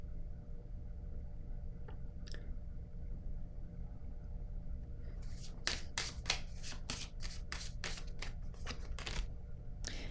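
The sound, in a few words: tarot cards being handled and laid down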